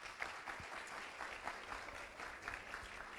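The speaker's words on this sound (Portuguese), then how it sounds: "Uma salva de palmas ao Senhor." A church congregation claps for the Lord after a sermon, a fairly faint, steady patter of many hands at a moderate distance, continuing evenly from start to finish.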